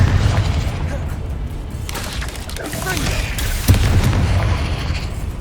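Spell explosions from Bombarda and Confringo in the video game Hogwarts Legacy, deep booming blasts and bursts running continuously under a dense, loud battle-like rumble with a sharper hit near the end.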